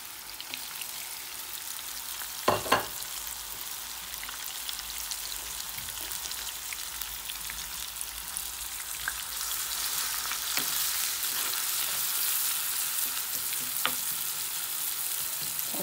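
Onions and green chilies fry in a pan with a steady, dense sizzle that grows slightly louder over time, close up, with a couple of brief knocks and occasional stirring.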